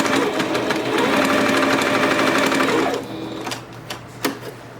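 A sewing machine stitches towel-fabric scrunchies in a fast, loud, steady whir for about three seconds, then stops, leaving a few soft handling knocks.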